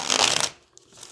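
A deck of tarot cards is shuffled by hand in a quick, papery riffle lasting about half a second, close and fairly loud, then it falls quiet.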